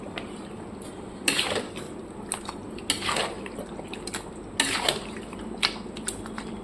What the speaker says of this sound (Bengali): এর সাথে সাথে আলুটাকেও অ্যাড করে দিচ্ছি। দুটোকে এবার ভালো করে কষিয়ে নেব।